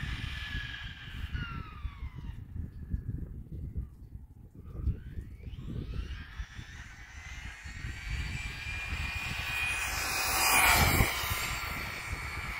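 A 1/8 scale nitro RC car fitted with a 6900kv motor tears past on a top speed run, its high-pitched whine sweeping up and down in pitch over dry ground, growing loudest as it passes close near the end. No one speaks.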